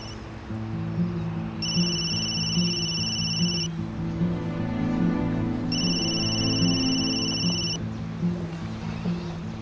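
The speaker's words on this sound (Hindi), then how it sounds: "अपना फोन चेक करो, बज रहा है।" A mobile phone rings indoors with a repeating electronic ringtone in two bursts over a low sustained background tone, fairly loud and with no talk.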